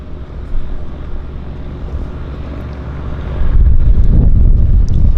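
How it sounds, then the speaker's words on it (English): Steady wind blows at a harbour airport by the waterfront, a low broadband rumble over the microphone. The wind strengthens and grows louder toward the end. "We've got a bit of wind."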